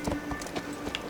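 A horse's hooves clip-clop in a quick, regular rhythm of sharp knocks, fairly faint and close, with a steady faint hum underneath.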